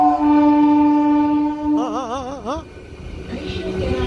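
A MEMU train horn on the Guntur–Vijayawada branch line by the Krishna canal sounds a long, steady, loud blast, followed by a wavering, warbling tone like a voice imitating the horn, over rolling train noise.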